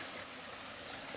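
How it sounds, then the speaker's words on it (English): Clean mountain brook flowing beside a tent at a backcountry campsite, a steady broadband rush of running water heard up close with no pauses and no voices. "Nice, clean, flowing stream."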